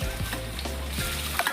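Ginger and garlic fry in oil in a kadai, a steady close sizzle with a few soft scraping stirs, no voices.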